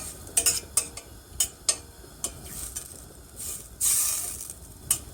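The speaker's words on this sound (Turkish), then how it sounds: "Yağımız bir tarafta erirken biz de isterseniz yavaş yavaş ununu ekleyelim" Liquid cooking oil melting in a pan for a flour soup hisses and sizzles in uneven bursts, with light clinks and scrapes of a utensil against the pan and no voices.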